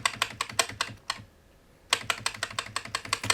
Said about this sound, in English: This keyboard is a particularly clacky keyboard. It is the MSI GK50, or GK30 I think it might actually be.